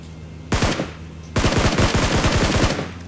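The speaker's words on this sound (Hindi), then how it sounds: "भाई मैं इस पर रैंडमली फायर करता हूँ।" Gunfire in the mobile battle royale game BGMI: a short automatic burst, a pause, then a longer rapid volley of loud, close shots.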